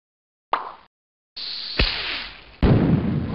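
Fraction fireworks launch in the Mighty Math Number Heroes video game: a short whoosh, a pause, then a longer fizzing launch with a sharp pop and a louder crackling burst, all clean game sound effects.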